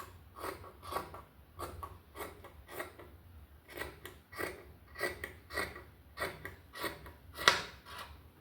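Scissors snip through a nighty fabric panel in a quiet room, giving a series of short, crisp cuts in an uneven rhythm, each a light metallic rasp close by.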